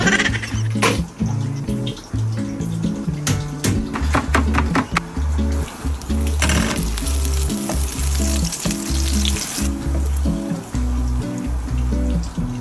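Six burger steak patties fry in a crowded home pan, a steady oily sizzle running throughout while a bass-heavy music track with a repeating beat plays loudly over it; no talk.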